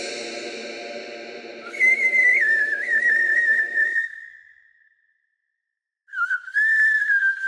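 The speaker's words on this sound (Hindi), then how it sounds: "एक रात मैंने सुनी एक सीटी की आवाज।" A clear, eerie whistled melody drifts outside a cabin in the woods at night, wavering in pitch, pausing for about a second, then resuming close and alone.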